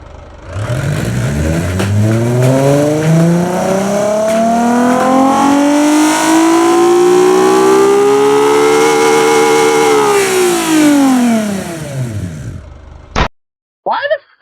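A 2025 Chevy Trax fitted with a 3.0L V6 accelerating hard: the engine note climbs steadily through the revs for about ten seconds, loud and close, then drops off with a couple of sharp pops at the end.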